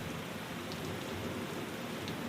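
Heavy midnight rain in Accra pours down in a steady, dense hiss that stays even throughout.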